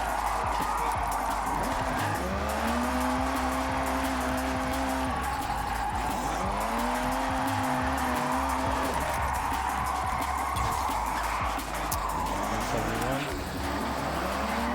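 A 1995 Mitsubishi Eclipse in Forza Horizon 6 revs hard while drifting, its engine pitch rising and falling in repeated surges with tire squeal, under someone talking throughout.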